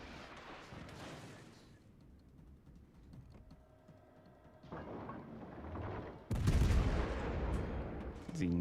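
Naval turret guns fire in World of Warships: Legends, giving heavy booming blasts with a big, loud report near the end over rumbling in-game ambience and mechanical clanks. The player's voice sits underneath in places.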